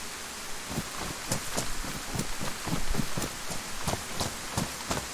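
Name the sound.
rain in video game DayZ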